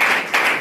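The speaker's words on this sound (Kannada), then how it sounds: "ಒಂದ್ಸಲ ಜೋರಾಗಿ ಚಪ್ಪಾಳೆ ತಟ್ರು" An audience at a Kalaburagi district Kannada literary conference claps loudly together. The applause is dense and steady throughout the brief moment, with a slight dip midway.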